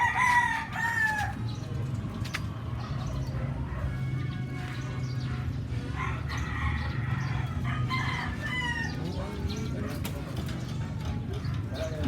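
A red rooster crows several times over a constant low background rumble, with scattered clucks and bird calls in between and brief voices in the distance.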